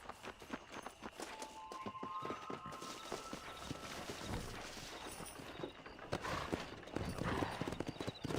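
Horses galloping in the Red Dead Redemption video game, rapid rhythmic hoofbeats clip-clopping throughout, with a whinny, wind and game sounds layered over the steady pounding.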